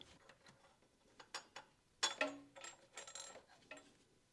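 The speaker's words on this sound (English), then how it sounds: "Now we can remove the VANOS bolt." Mechanical clicking and ratcheting as the VANOS bolt on a BMW N43 engine is worked loose, a series of close, sharp ticks with a louder metallic clatter in the middle, no talking.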